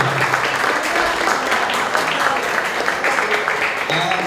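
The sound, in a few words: audience applause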